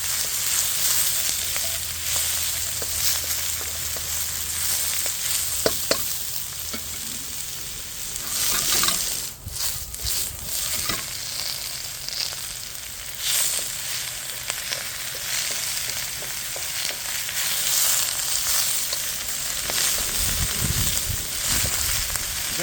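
Chopped vegetables fry in a hot pan for duck udon soup, a steady close sizzle with occasional stirring scrapes and clatters, running continuously without talk.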